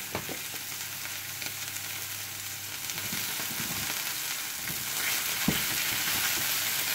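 Beef steak frying in oil in a pan, cooked Spanish style, giving a steady, close crackling sizzle with a few sharper pops and no voices.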